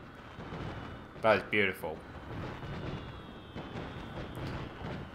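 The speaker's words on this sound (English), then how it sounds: "with that beautiful fireworks display marks the end of Moonbrook" Fireworks finale in the Dragon Quest Builders 2 video game: a quick cluster of three sharp bursts near the start, then scattered softer pops and crackle over a steady background, with a voice speaking briefly.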